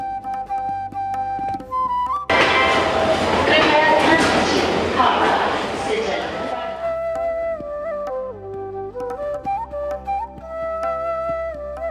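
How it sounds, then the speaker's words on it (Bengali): Train pulling into Jammu station, a dense rattling rush of wheels and carriages rising for a few seconds and then fading, surrounded by a steady tonal hum and people talking nearby. "জম্মু স্টেশনে ট্রেন পৌঁছল তৃতীয় দিন বিকেল 4টে।"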